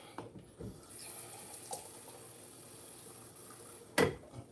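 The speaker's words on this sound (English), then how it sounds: "A little bit of water on this." Tap water runs briefly onto a cooked roast in a pot, a low steady trickle followed by a sharp close clunk near the end.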